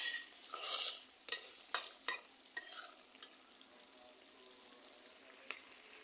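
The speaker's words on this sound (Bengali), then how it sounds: "আর আজকে আমি রান্না করতেছি গরুর মাংস।" A utensil stirs beef curry in a pan, cooked bhuna style with little gravy. Sharp scraping strokes and clicks come at an uneven pace over a faint, steady sizzle.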